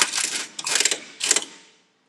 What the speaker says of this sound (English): Now when doing the nut up, reuse your rattle gun.